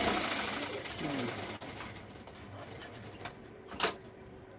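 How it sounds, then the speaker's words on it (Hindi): A sewing machine rattles continuously in a room, a steady mechanical clatter at moderate level with a few sharper knocks toward the end. "सिलाई होता है, इसके लिए खड़खड़ खड़खड़ आवाज जाता होगा"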